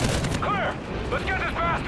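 Gunfire in the video game Call of Duty: Ghosts, with heavy booming shots and bursts rumbling under a player's talk throughout.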